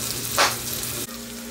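Red oak acorn weevil grubs frying in hot butter in a pan, a loud close steady sizzle with one sharp popping burst as a grub explodes, then an abrupt drop to a quieter hiss.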